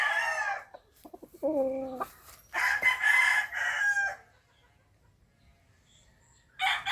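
A seven-month-old Sweater gamecock crows several times nearby, loud harmonic calls separated by short pauses, with a brief start of another crow at the end.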